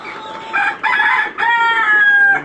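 Egyptian Fayoumi layer parent chickens on a farm give loud, close rooster crows and clucks in two or three drawn-out calls, with the flock audible behind them.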